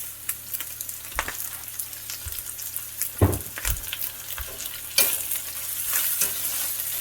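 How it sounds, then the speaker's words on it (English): Garlic toasts in virgin olive oil in a pan, giving a continuous soft sizzle with scattered crackles, louder pops and occasional stirring scrapes close by, and no talking. "So the garlic is toasted."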